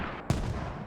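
A single mortar impact booms out during a Squad Rivals match, a sharp loud broadband blast standing out against a steady bed of in-game ambience, with no other strikes following.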